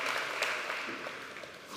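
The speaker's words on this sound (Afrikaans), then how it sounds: "so julle kan hande klap" Brief, fairly soft applause from a church congregation, a blurred patter of hands that eases slightly in strength over under two seconds.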